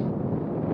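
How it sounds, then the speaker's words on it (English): Rough, low rumbling buffets of wind hit the microphone continuously for a brief moment, with no voices. "sorry about the wind. It's windy."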